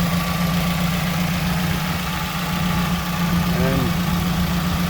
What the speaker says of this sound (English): Now it just finally idled down.